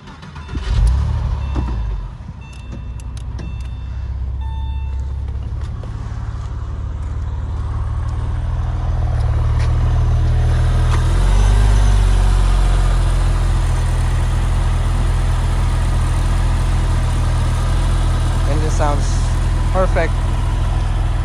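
Low-mileage Porsche 996 engine cranking to life and then settling into a steady, rumbling idle, close and fairly loud, with a voice talking near the start.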